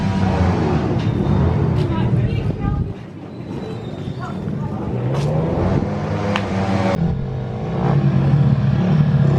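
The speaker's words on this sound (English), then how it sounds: "So this is the junior 250s, full-size bike with a 250cc motor." Full-size junior 250cc speedway motorcycles with leading-link front forks and no brakes roar around a practice track, their engines rising and falling continuously while someone talks over the noise.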